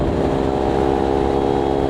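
A Kawasaki Ninja 300 motorcycle engine drones steadily at speed on a highway, a loud, even mid-pitched hum with no breaks or voices.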